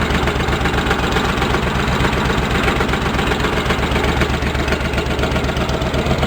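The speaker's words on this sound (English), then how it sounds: "I don't know if that's the engine knocking or what." A Cub Cadet 1650 four-wheel-drive tractor engine runs loud and close. Its steady idle carries a rapid, regular pulsing that may be knocking, with no voices.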